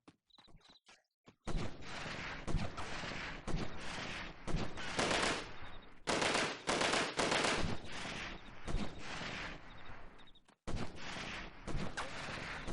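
Video game gunfire in Delta Force: long, dense volleys of rapid shots that are fairly quiet and recorded close up, broken by a few short gaps.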